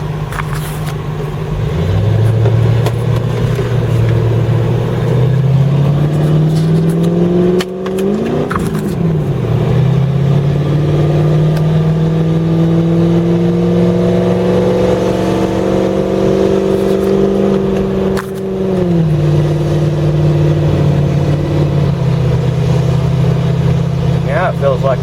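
A Land Rover with a freshly installed transmission rolls along in drive, its engine note rising and falling through several gear changes, a steady close drone lasting the whole stretch.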